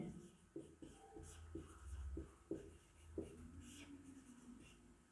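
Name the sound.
writing on a board while solving a trigonometry problem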